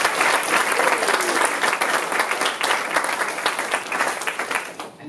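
A round of applause for music department percussion and bass cluster helpers: dense, steady clapping from an audience throughout, with no voices over it.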